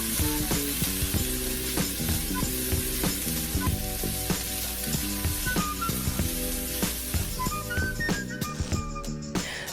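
Shrimp sizzle steadily in a heated pan, a loud continuous frying hiss with crackling pops and occasional clinks of a utensil stirring, close to the listener.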